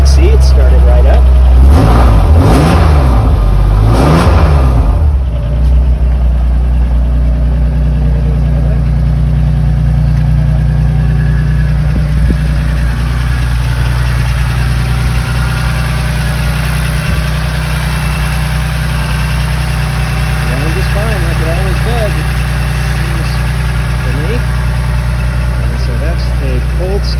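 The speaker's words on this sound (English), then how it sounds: "Cold start video of the race car" Cold start of a 1995 BMW E36 325is race car built to M3 spec with an S54 engine: the engine cranks and catches within a few seconds, then settles into a loud, steady, close idle that runs on for the rest of the clip.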